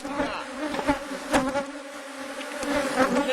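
A steady swarm-like drone of honeybees rises from an opened hive box in a small-cell beekeeping yard, close and continuous with gentle swells and a few sharper passes of individual bees near the microphone.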